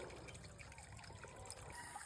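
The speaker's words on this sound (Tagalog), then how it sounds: "may mga tubig na dito o galing bundok" Mountain spring water trickles and dribbles over the ground on a wooded hillside, a faint, soft, continuous burble heard up close with no speech over it.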